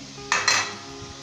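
Creamy, milky gajar ka halwa (carrot halwa) being dished out with metal utensils: two quick, close clinks and scrapes of spoon on pan or plate in a quiet kitchen, with no talking.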